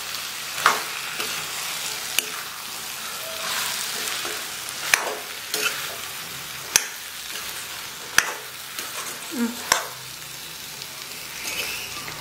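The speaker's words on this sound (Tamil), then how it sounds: "நல்லா இந்த மசாலாவோட வதக்கி விட்டுறலாம்" Green peas and mushrooms sauté in masala in a pan, giving a continuous close sizzle broken by occasional scraping stirs and clicks of a spoon, with no one speaking.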